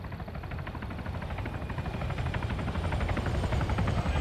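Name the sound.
helicopter flying over, from video game ARMA 3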